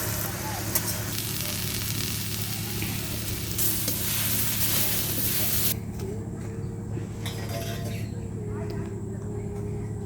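Taro leaves boil in a pot with a steady bubbling, sizzling hiss, loud and close, that carries on throughout and thins out partway through.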